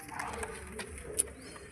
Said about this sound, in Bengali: এই পায়রা যাচ্ছে, দাদার পায়রা ফুল অ্যাক্টিভ আছে